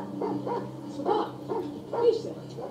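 A puppy barks in a room, several short yips in an uneven rhythm, moderately loud, with a television show faintly in the background.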